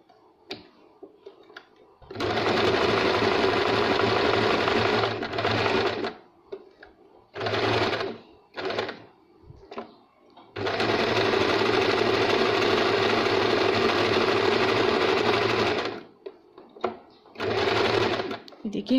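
Sewing machine stitching buttonholes: loud sustained runs of rapid mechanical stitching, separated by short pauses and brief bursts.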